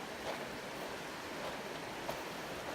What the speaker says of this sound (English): This is Bright Angel Creek